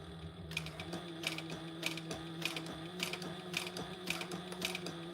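A home sewing machine stitches around a circle, a quiet regular mechanical clatter with repeating bursts of needle strikes at an even pace, close but low in level.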